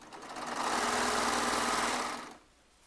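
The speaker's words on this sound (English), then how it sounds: "Just stitch it down and get it done." Close, loud whir of a Baby Lock Triumph serger stitching quilt fabric in a single run of about two seconds that stops abruptly, with no voices.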